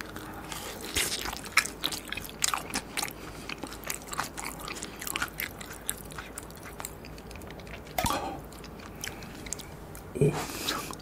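Close bites and wet chewing of fried eggplant in sweet-and-sour sauce, soft crunches and squishy mouth sounds repeating irregularly, faint and intimate with no talk.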